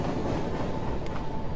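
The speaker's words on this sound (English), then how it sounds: "That stupid train again." A train rumbles past nearby in the video game Lost Souls, a dense low roar with a faint rhythmic clatter running through it.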